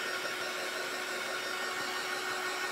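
A dryer blows steadily on a clay-covered jar lid, giving a continuous, even whooshing hum that holds at one level for the whole stretch with no pauses.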